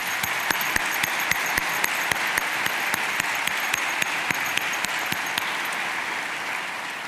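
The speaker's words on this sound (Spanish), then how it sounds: "pero podemos volver a aplaudirlos a todos ellos" Sustained audience applause at a formal national address fills the whole stretch as a dense, even roar of many clapping hands, fading slightly at the end.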